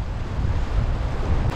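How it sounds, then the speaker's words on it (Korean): Strong wind buffets the microphone while high waves break on seaside rocks, a dense continuous roar with heavy low rumble, loud and unbroken, no voices. "오늘 바람도 세고"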